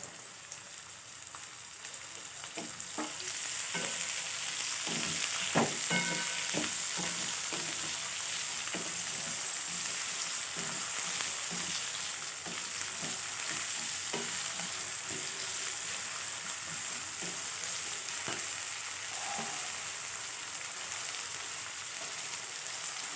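Green and red chillies fry in hot oil with a steady, close sizzle and crackle, broken by occasional stirring clatter, continuing for the whole stretch with no voices.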